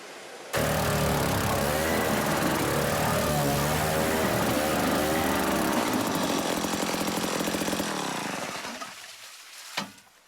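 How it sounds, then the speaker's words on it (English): A motorised drill bores through Antarctic sea ice with a loud, steady, close mechanical roar that holds for several seconds, then tapers away and ends with a couple of sharp clanks. "The first thing you need to do is drill through the ice."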